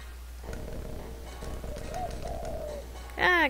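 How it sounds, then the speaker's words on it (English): A pigeon coos softly in the video game Jazzpunk, low warbling calls over a quiet hum, followed by a brief louder flutter-like burst at the end. "There's another pigeon up there."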